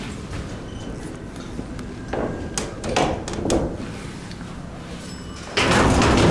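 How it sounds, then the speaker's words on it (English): Freight elevator doors slide shut on a Montgomery hydraulic freight elevator at a convention center, producing rumbling slides, scattered knocks and clatters, and a louder clunk near the end. "Alright, let's close the doors."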